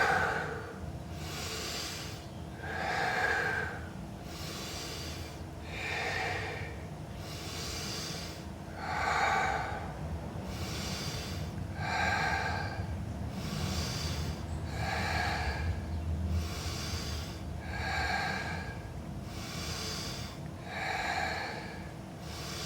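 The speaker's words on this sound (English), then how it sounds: "Let's take 10 breaths." Slow, deep breathing in a guided breathing exercise, about ten long inhale-exhale cycles in steady rhythm, each breath a loud airy rush close to the microphone, with no talking.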